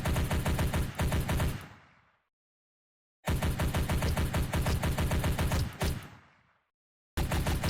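Rapid automatic gunfire from a Unity zombie shooter game, fired in two sustained bursts of about two seconds each. Abrupt silences separate them, and a third burst begins at the end.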